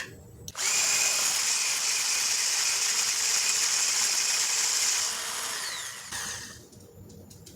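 An electric mixer whirs steadily for about five seconds while beating no-bake chocolate cheesecake filling, then slows and cuts off, a loud close mechanical whine with a quiet gap before and after.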